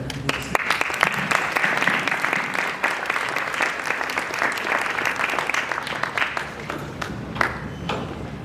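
An audience applauds to welcome Keith Brown at a stakeholder presentation in Marin County, a dense, steady wash of clapping held for several seconds before tapering off.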